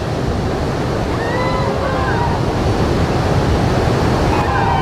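Sea waves washing onto a beach as a steady broadband roar with wind noise, with faint voices talking and calling over it throughout.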